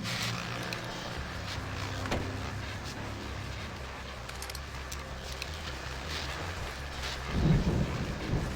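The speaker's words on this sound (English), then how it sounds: "that storm we all felt coming is finally here" A rolling thunderstorm with steady rain in Alan Wake Remastered, a low continuous rumble under constant rain hiss, swelling into a louder crack of thunder near the end.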